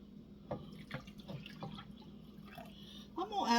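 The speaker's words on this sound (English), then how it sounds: "I'm going to add about 2 cups of water." About two cups of water go into a pot of old-fashioned goulash in a splashy, trickling pour with drips, building louder near the end, with a voice partly over it.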